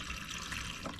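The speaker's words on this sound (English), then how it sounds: "And then I'm gonna run the water here" Water running from the tap of a watercooler during hot and cold tank cleaning, a steady close splashing flow that fills the whole second without a break.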